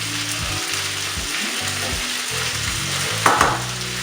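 Soft ackee pieces hit hot oil in a pot, setting off a steady, close sizzle that carries on throughout, with a couple of faint clinks from a utensil near the end.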